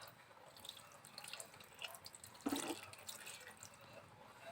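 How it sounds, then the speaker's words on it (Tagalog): Vinegar is poured into a pot for a yellowfin tuna paksiw, making a faint, soft trickling and splashing pour that swells briefly midway, heard close in a quiet kitchen with no talking. "ilagay natin yung suka"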